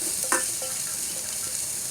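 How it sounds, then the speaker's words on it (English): Diced onion and carrot fry in oil in a Cobb wok attachment on a Cobb barbecue at a campsite, a steady close sizzle with a brief metallic scrape of stirring near the start. "I'm just going to chuck my onions and carrots on"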